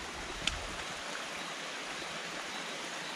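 Water pouring steadily through a check dam spillway, swollen after a rainstorm, a soft continuous rushing wash with one brief click near the start, no voices.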